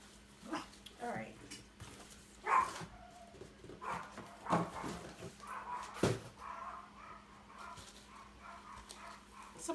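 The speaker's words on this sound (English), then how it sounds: "Somebody must be home because the dogs are going cray cray." Several dogs bark and yip in scattered bursts somewhere nearby but muffled, while a person speaks quietly over them.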